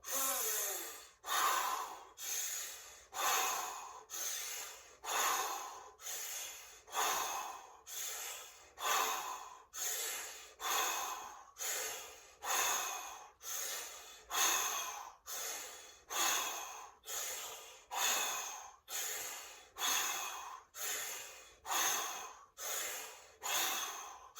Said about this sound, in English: audible, loud, full breaths out